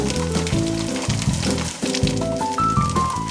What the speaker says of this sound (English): When it's almost fully cooked, scoot it over to one side and add in the chopped onion.